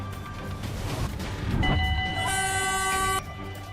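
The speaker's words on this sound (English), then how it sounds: "This guy's taking a selfie by a moving train" Moving train rushing past with a loud, rumbling roar, then a sustained horn blast cutting in near the end before stopping abruptly.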